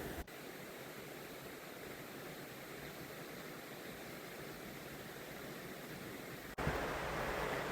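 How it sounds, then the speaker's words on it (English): A small mountain stream runs beside a forest trail in Gifford Pinchot National Forest, its steady broadband rush continuous and close throughout, growing slightly louder near the end. "the trail follows this little stream or river"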